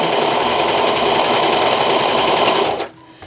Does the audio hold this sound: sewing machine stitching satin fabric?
yes